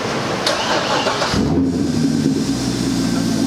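A car with a Corsa axle-back exhaust and muffler delete cranks and fires up, settling into a loud, deep, rumbling idle close by.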